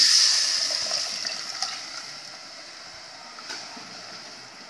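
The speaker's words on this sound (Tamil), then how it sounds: "நான் புளி தேங்காய் சீரகம் மிளகு இதெல்லாம் சேர்த்து அரைச்சி வச்சதை ஒன்றா அந்த மாதிரி கரைச்சி வச்சுருக்கிறேன் இப்போ இதை ஊற்றிக்கலாம்" A ground masala of tamarind, coconut, cumin and pepper is poured into a pot of fish curry, making a steady liquid hiss and splash that tapers off gradually, close and alone.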